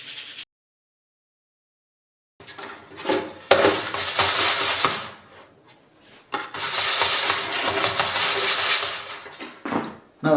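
Wet pasta dough rubbed and pushed through a medium screen, two long bursts of loud rasping, scraping friction separated by short pauses, close up with no talking.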